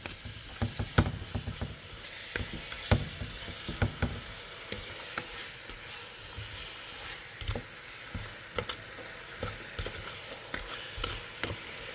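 Onion and vegetables cooking in a pot for lentil soup, giving a soft, quiet sizzle punctuated by frequent light taps and scrapes of a spoon against the pot.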